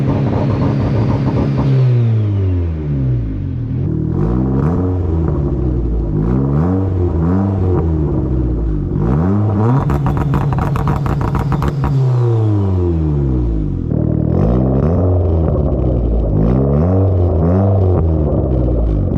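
Tuned car engine with an aggressive rolling antilag setup, heard close and loud as it idles, then revs repeatedly in rising and falling sweeps, with crackling antilag pops between runs.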